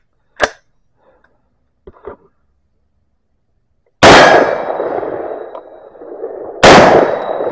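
Sharp, loud impacts of rifle rounds, 62-grain ammunition, striking a Level 3+ body armor plate, each a sudden metallic crack with a lingering ringing decay, heard twice after a few faint earlier taps.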